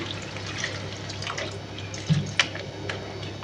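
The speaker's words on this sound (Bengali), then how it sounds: "এবার আমি এর মধ্যে অল্প করে জল দেব খুব বেশি জল দেব না" A small amount of water is poured into a pot of spicy sea mourala fish curry with softened potato and eggplant, giving a faint, low trickle with a couple of brief splashes, close by and quiet.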